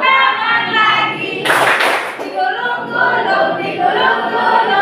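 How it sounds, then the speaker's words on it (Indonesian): Hand clapping during an Indonesian children's action song, a short burst of several quick claps at mid-clip set against continuous singing and music. "tepuk tangan lagi."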